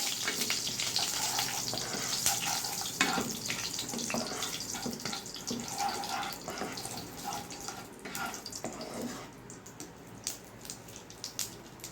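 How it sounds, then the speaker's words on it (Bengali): Cumin seeds fry in a pan, giving a steady broadband sizzle that carries the whole time with faint watery hiss and small clinks, close and moderately loud, no voices. "জিরে দিয়ে দিলাম জিরাটা একটু ভাজা ভাজা করে নিতে হবে"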